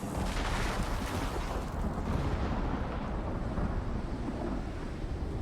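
Thunder from a storm in the video game ARK, a loud, sustained low rumble with a rough, crackling roll that fills the whole stretch without any voices.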